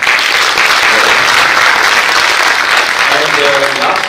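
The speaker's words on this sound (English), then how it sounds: "I think a big round of applause" Sustained, dense applause from an audience at the Indian Steel Conference 2024, loud and steady throughout with some voices faintly mixed in near the end.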